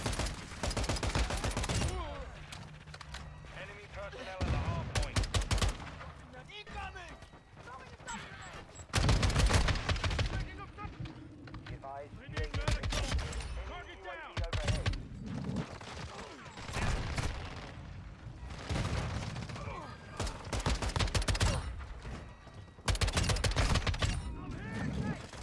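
Shotgun blasts from a video game come in loud bursts separated by quieter gaps, with a voice talking between shots.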